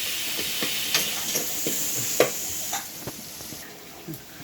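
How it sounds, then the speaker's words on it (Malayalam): Onion, ginger and garlic fry in a pan while a spoon stirs them, giving a steady sizzle broken by repeated scraping knocks, with no speech. "എന്നിട്ട് പതുക്കെ നന്നായിട്ടൊന്ന് ഇളക്കി കൊടുക്കുക"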